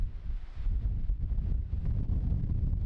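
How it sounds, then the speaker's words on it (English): Strong gusting wind, reported at 50 gusting to 90, blows across a creek-side hiking trail: a continuous low roar buffets close to the microphone and swells and eases in surges, with no talk. "it's pretty windy out. Pushes you around pretty good."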